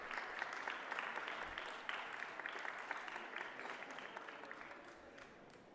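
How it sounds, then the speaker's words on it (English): Graduation ceremony audience at Fife College applauding and cheering, a steady sustained wash of clapping that fades slightly toward the end, heard at moderate distance in a large hall. "give them a cheer, and appropriate applause"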